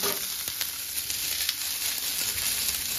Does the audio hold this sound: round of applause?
no